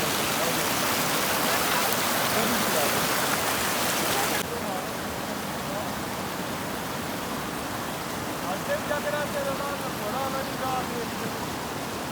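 A flowing mountain stream in Kashmir gives off a steady, rushing hiss that is loud for the first few seconds and then softer but continuous. Faint voices and brief tonal sounds rise above the water near the end.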